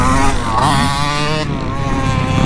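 A dirt bike engine revving steadily, pitch rising and wavering, loud and close with wind noise over the microphone.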